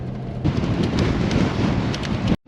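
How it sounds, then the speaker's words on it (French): Strong wind gusting near a coastal off-road track, roaring loudly and buffeting the microphone with a broad, steady rush for most of the stretch before cutting out abruptly near the end. "Il y a trop de vent, c'est un truc de malade."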